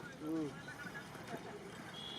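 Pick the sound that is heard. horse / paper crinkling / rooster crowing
horse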